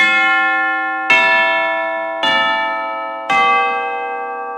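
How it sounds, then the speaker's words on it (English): Tubular bells from the ProjectSAM Lineage Percussion sample library, four loud struck notes at steady intervals, each with a bright metallic attack and a long shimmering ring that decays slowly into the next strike, with no voices. "Tubular bells."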